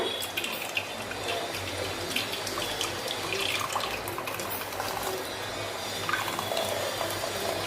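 Fresh coconut milk for solkadhi, blended in a mixer and then wrung tightly by hand through a cloth, gives a steady wet trickle and splash of liquid that runs close and continuous, with no talking.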